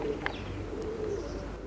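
Tbilisi fighting tumbler pigeons coo softly and low against a steady background rumble, with one brief higher chirp. No one speaks.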